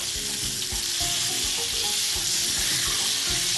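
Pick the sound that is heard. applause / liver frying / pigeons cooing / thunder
liver frying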